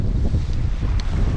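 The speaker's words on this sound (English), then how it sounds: "it's murder with how strong the wind is" Strong wind buffeting the microphone at Loch Laggan: a loud, continuous low roar and rumble with gusty surges, no voices over it.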